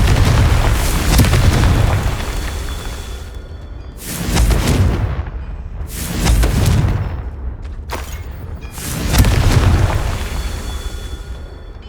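Fiery spell explosions in the video game Hogwarts Legacy: four loud, deep booming blasts spaced a couple of seconds apart, each with a rumbling decay.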